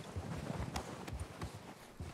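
Horse hooves in the video game Red Dead Redemption 2, a rhythmic clip-clop of several spaced thuds close by over a windy outdoor bed as the rider wheels the horse in a tight circle.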